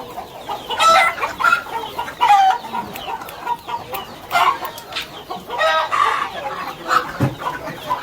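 Free-range country hens on a poultry farm cluck repeatedly in short bursts, with a rooster-like call mixed in, fairly close and busy throughout.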